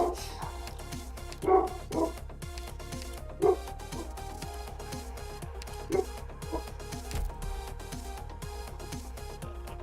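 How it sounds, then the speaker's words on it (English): Dogs bark several times at a distance, a few separate sharp yips and woofs rising over a steady background of game music. "I don't know what they're barking at."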